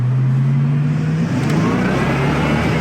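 A 1973 Ford Mustang convertible engine revs up loud and close, a low steady drone that climbs in pitch as the throttle opens.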